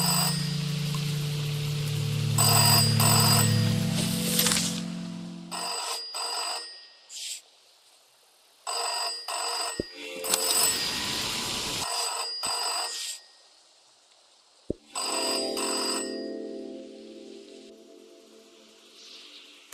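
A telephone rings in repeated bursts of bright trilling bells separated by short silences, loud and close, with lower tonal sounds under the first burst and no speech.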